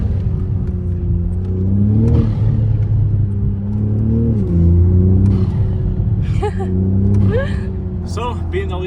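BMW Z4 engine intake noise rises and falls through several acceleration pulls, a loud, close droning roar with shifting pitch, while a person speaks over it intermittently.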